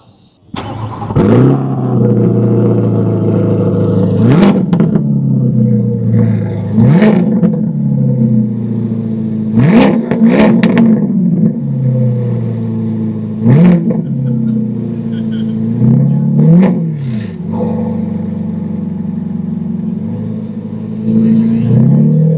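A 2022 Chevrolet C8 Corvette convertible with an aftermarket louder exhaust revs hard again and again, each blip rising and falling with a loud, aggressive exhaust growl between steady idling.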